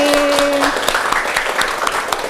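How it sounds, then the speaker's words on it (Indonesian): A crowd claps together in steady applause, loud and close, lasting a couple of seconds after a brief tone. "Tepuk tangan buat kita hari ini"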